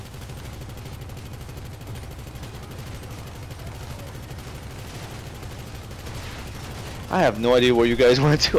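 Rapid automatic gunfire in Grand Theft Auto Online, a continuous, fast rattle of shots at steady volume before a voice breaks in near the end.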